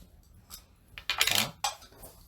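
A coin drops during a magic trick, giving a few short bright metallic clinks and a brief rattle, close and fairly quiet against a hushed room.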